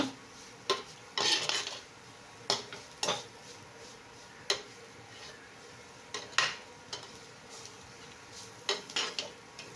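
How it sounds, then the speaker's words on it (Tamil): Metal spoon scraping and tapping a pan while stirring carrot poriyal, a homemade Tamil carrot stir-fry, in sparse clinks and scrapes spread through a quiet kitchen. "ரெண்டு நிமிஷம் அப்படி கிளறி கொடுத்தீங்கன்னா கேரட் பொரியல் ரெடி ஆயிரும்"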